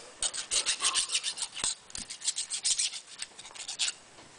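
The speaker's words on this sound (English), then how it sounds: "It's a warding file." A warding file drawn back and forth over a small steel gear part during fitting work on a live steam garden locomotive, a steady rhythmic rasp of about twenty close, bright strokes with no talking.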